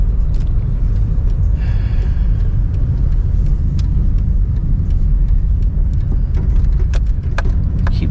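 A car circling a cul-de-sac, its steady close engine rumble and road noise continuous throughout, with faint clicks over the top.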